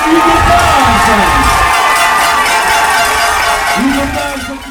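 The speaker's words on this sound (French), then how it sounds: "Vos applaudissements, mesdames, messieurs, pour le champion de France, Hugo" A dense crowd at a French junior cycling championship event cheers and applauds a national champion, loud and sustained throughout, close and enveloping, fading slightly at the end.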